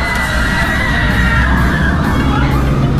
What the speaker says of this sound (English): we're gonna wait for them to scream on vortex in 1 second